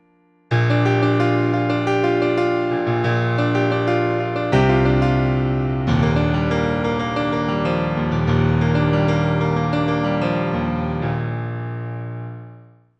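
A song's final guitar solo arranged for solo piano, a steady flowing run of bright chords over sustained bass notes, played alone for about twelve seconds and ringing out at the end.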